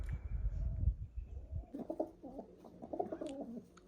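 A female racing pigeon coos in soft, rolling bursts after a low rumbling start, nearby and fairly quiet.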